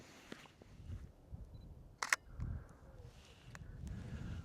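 An SLR camera shutter fires once, crisp and close, while a photographer shoots a landscape outdoors at sunset on Dartmoor. Soft wind and low rumble sit around the click, and there is no talk.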